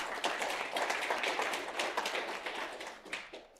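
A conference audience at eazyBI Community Days breaks into steady, dense applause, many hands clapping together for a few seconds before tapering slightly at the end.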